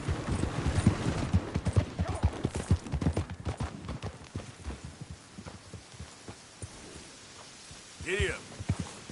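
Horse hooves clip-clop in a steady rhythm, loud and close at first and then fading as the horse moves off, with a short voice near the end.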